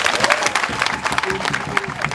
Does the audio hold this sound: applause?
yes